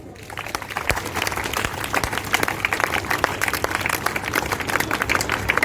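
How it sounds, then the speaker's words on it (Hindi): A school assembly audience applauds a vice principal's address with steady, dense clapping from many hands that carries through the whole stretch without a break. "एक बार तालियां हो जाए इसके लिए।"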